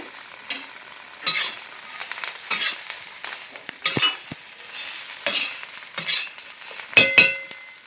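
Cumin and mustard seeds hit hot oil for a cluster bean thecha, giving a steady crackling sizzle with sharp pops and stirring scrapes. A louder burst of spitting comes near the end, with no voices.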